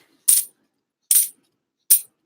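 Three Washington quarters drop one after another onto a hard surface during a coin roll hunt, each a bright, close metallic clink separated by about a second of silence.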